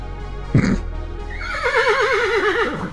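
A horse whinnies loudly in the video game Yuppie Psycho, a short thud followed by a long wavering neigh with a trembling, descending pitch, heard up close over a low background hum.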